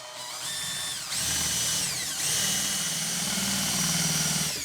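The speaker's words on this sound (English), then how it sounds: "So I'll drill the countersinks first." A power drill whines at high speed in short bursts, drilling countersinks in wood for a tool holder, pitch rising as it spins up, close by and loud, with brief pauses between runs.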